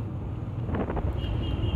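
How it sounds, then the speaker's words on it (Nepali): Strong wind roars steadily across the microphone during a motorbike ride through the Kathmandu Valley, a continuous buffeting rumble, close and loud, with no speech. "पुरै हावाहुरी चलेको छ"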